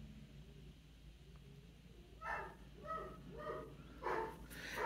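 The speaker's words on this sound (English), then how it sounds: "sorry if you can hear the doggy." A small dog barks indoors in a run of about five short, moderately faint yaps over the last half of the clip, following a quiet stretch of room noise.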